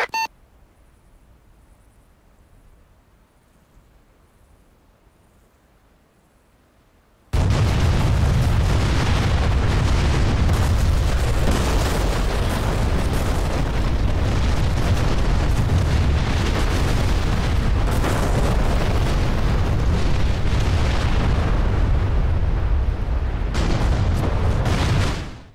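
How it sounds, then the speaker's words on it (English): Naval artillery bombardment in the DCS combat flight simulator: after several seconds of near silence, a sustained loud roar of continuous heavy explosions and booming shellfire rolls on unbroken for the rest of the clip. "how to do another naval bombardment"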